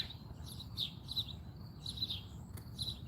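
Backyard birds chirp in short, repeated high bursts at a moderate distance, fairly faint over a low background rumble.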